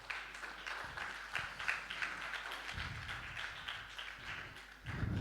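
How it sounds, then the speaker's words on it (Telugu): A church congregation claps their hands together, a steady soft patter of many hands heard from some distance, continuous throughout with a few louder bumps. "చప్పట్లు కొట్టి దేవుని మహిమపరుద్దాం."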